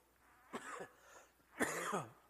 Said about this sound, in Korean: 감기 때문에 기침이 나오는데 죄송하고요.